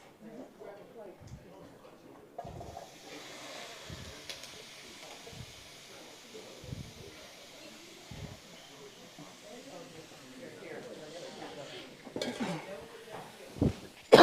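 A bowl of vegetables sautés in a pan during a cooking class, giving a steady, soft sizzling hiss with occasional utensil clinks while people talk over it.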